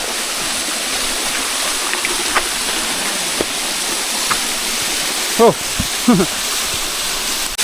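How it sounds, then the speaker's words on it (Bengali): A small waterfall on the Boalia trail near Mirsarai, Chittagong, gives a steady, full rushing wash of falling water, with a brief voice and a few short chirps near the end. "এই হচ্ছে একটা ঝর্ণা,"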